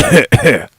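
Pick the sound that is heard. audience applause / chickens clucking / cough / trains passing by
cough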